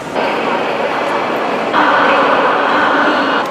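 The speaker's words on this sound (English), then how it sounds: "So just got to the train station and it's freaking raining." Steady, loud rumbling hiss of a Beijing train station in the rain, with a broad noise wash that shifts up partway through, like a train or rain intensifying.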